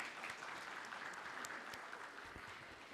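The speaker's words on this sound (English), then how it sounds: "can we have a round of applause for them" Audience applause at a metal industry conference as the chairperson and speakers come on stage, an even wash of many hands clapping, faint and distant, continuing throughout.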